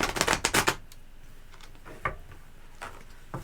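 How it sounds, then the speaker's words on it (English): A deck of tarot cards is riffled in a quick, loud burst of crisp flutters, followed by a few sparse, fainter card snaps and taps. "that was a flawed shuffle if I ever saw one"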